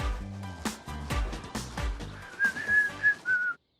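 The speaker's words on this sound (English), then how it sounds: "That was me whistling, not bird song" A person on a balcony whistles a bright melodic tune of short notes ending in a few sustained warbles, heard over a rhythmic low background beat, fairly close and clear.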